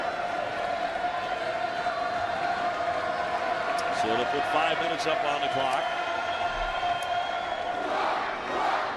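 Crowd at a college men's basketball game in a Puerto Rico arena, a steady murmur with scattered shouts, sneaker squeaks and a buzzer-like tone, heard under a commentator's talk.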